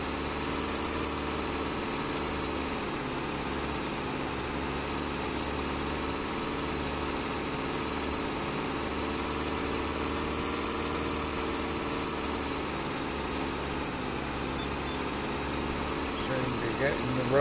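A Ford TW35 tractor engine from the Farming Simulator 25 video game runs at a steady, unchanging drone throughout, without speech over it.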